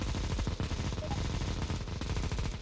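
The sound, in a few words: gunfire in a Counter-Strike video game match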